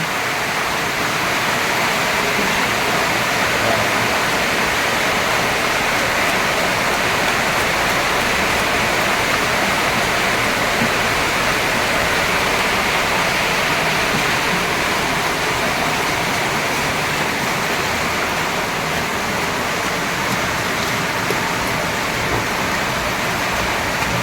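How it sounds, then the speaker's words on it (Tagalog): Heavy rain pours down on a pig farm in a dense, constant hiss that stays loud and steady throughout, with no voices. "bumuso naman yung malakas na ulan"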